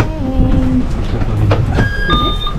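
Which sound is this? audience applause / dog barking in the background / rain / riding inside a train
riding inside a train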